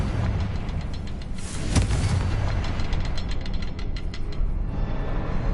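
A Confringo explosive spell goes off in the Hogwarts Legacy video game, a sharp blast followed by dense rumbling effects and crackling debris under a steady, loud game soundscape.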